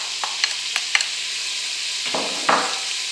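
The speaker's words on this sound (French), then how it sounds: "en mode doré, je vais faire revenir dans de l'huile d'olive mes lardons." Lardons, onions and mushrooms fry in olive oil in a Cookeo multicooker, a steady close sizzle under scraping stirs and a few light utensil taps against the pot.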